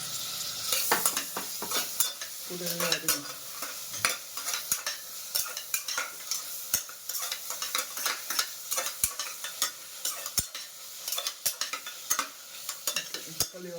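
Onions and tomatoes sauté in a pan for sambar rice, with a loud sizzling hiss and frequent rhythmic scraping and tapping of a spoon stirring against the pan, close up with no talk.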